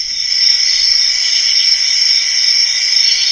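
Steady, continuous cricket chirring fills the whole stretch as a loud, unbroken insect drone with no voices.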